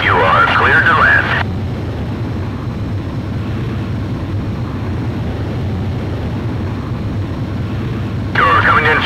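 A fighter jet on its landing approach in the Ace Combat Zero video game, a steady broadband engine roar that holds throughout, with brief radio chatter at the start and end.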